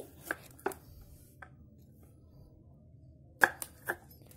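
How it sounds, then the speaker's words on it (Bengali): A knife chops fresh okra on a cutting board in a kitchen, giving about half a dozen sharp, close knocks spaced unevenly between quiet pauses. "ভেন্ডি আমি এখানে কেটে নিচ্ছি"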